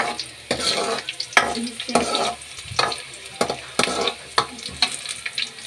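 Masala for dal fries in a pan, with sizzling and a rhythmic series of scraping stirs at close range, one or two words spoken in passing.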